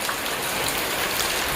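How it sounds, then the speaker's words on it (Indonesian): Light dry-season rain falls steadily and alone, a dense, even hiss of drops pattering on surfaces close by with no voices. "Biasanya kalau hujan sudah mulai kemarau atau marengan seperti ini itu tidak terlalu deras lur."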